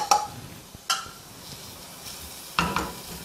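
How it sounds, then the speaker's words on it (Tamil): Ginger, garlic and onion sautéing in a pan for a vallarai (brahmi leaf) soup, with a few sharp spatula clinks and scrapes against the metal over a faint low sizzle, no voices. "இஞ்சி பூண்டு வெங்காயம் மூணையும் போட்டு நல்லா வதக்கணும்."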